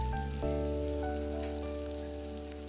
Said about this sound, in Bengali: দিয়ে ভালো করে পেঁয়াজটাকে লাল লাল করে ভেজে নেব।